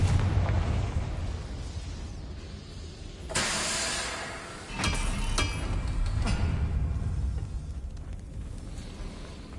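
Confringo fire spell blasts in the Hogwarts Legacy video game, a rumbling roar punctuated by a loud fiery whoosh and two sharper bursts, with crackling hiss trailing off afterward.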